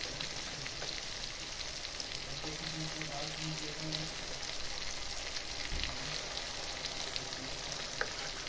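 Mustard spice paste, ground with a pinch of salt, frying in a hot pan for Noakhali-style mustard rohu fish. A steady, even sizzle runs throughout at moderate level, with a few faint stirring scrapes.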